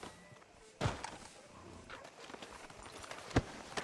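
Horse hooves in Red Dead Redemption 2 land as a few sparse, sharp thuds against a quiet background, one heavy knock early and another near the end.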